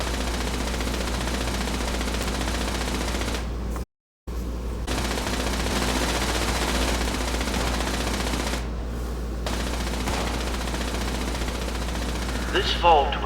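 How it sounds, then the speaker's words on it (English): Sustained automatic gunfire roars through a Fallout 76 video game scene, a dense continuous burst that briefly cuts out, then resumes before fading near the end. "Seems like they're firing something."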